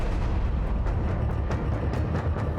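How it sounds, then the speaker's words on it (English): Dense, continuous booming and rumbling with repeated sharp bursts, loud and roaring like heavy cannon fire. "The boom from the cannon was much louder than before"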